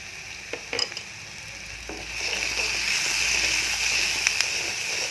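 Spices (turmeric, garam masala, salt and chili powder) fry in hot oil for a paneer kofta curry, a close, steady sizzle that swells after a few sharp scrapes and taps of stirring.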